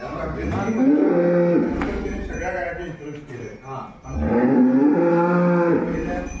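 Cows moo in a cowshed on a dairy farm, with two long, loud, close moos a few seconds apart, each with a rising then falling tone, while someone talks over and between them.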